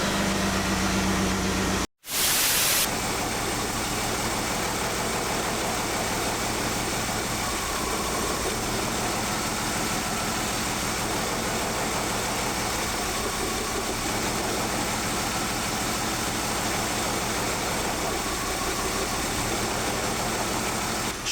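A BMW 328i with an ignition problem idles steadily and close for about twenty seconds, its low rumble broken by a brief dropout and a burst of noise near the start.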